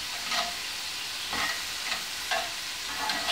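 Butter sizzles in a hot cast iron pan with a ribeye steak, a steady close hiss broken by soft bursts of spooning or stirring about once a second.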